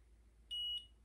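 An FTX RC crawler gives a single short, high electronic beep on being switched on, quiet and close, lasting about a third of a second against near silence.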